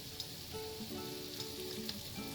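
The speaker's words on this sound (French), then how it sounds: "Donc, on va ajouter notre bouillon de légumes directement" Vegetable broth poured into a hot frying pan for a potato and preserved lemon soup gives a steady soft sizzle and bubbling hiss at moderate level, with a few faint clinks and no talking.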